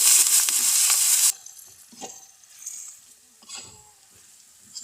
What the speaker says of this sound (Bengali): এবার আমরা এই তেলের ভিতরে দিয়ে দিব কুচিয়ে রাখা 1/2 কাপ মতো পেঁয়াজ। এটা আমরা বাদামি করে ভেজে নিব।